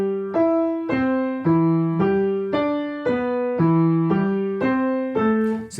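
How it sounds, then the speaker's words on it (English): Piano playing a slow phrase from Kabalevsky's Cradle Song, op. 39 no. 4, with about ten clear notes joined smoothly in a connected legato line, alone and close. "if the slur was from the beginning all the way to the end, then it would sound like this."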